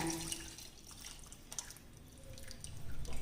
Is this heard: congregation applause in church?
no